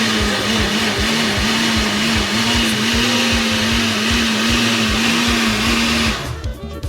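A blender runs continuously at high speed crushing tomatoes, a steady loud whirring motor drone with rhythmic chopping pulses, cutting off near the end to a brief rattle.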